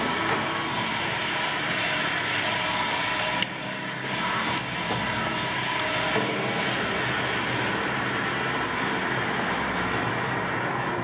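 An industrial shredder crushes plastic pipe with a continuous heavy grinding roar at moderate level, broken by one sharp jolt about a third of the way through, then steady churning again.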